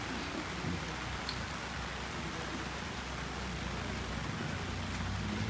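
Steady rain falls on a tent canopy, a dense, even patter holding at constant loudness throughout with no voices.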